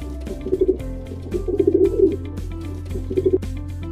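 A pigeon coos in soft, throaty bursts, three rounds of low warbling over a faint background hum.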